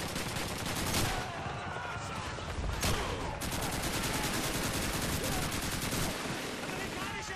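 Machine gun fire rattles without pause in a Call of Duty 2 battle, rapid bursts layered over dense gunfire with sharper cracks near one and three seconds, loud and close, with faint voices underneath.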